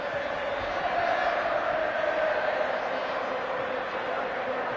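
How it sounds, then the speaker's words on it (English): Large stadium crowd at the 1983 rugby league cup final at Wembley, a broad, steady roar of many voices humming in the distance, continuous throughout. "Huge crowd, at last basking in the sunshine."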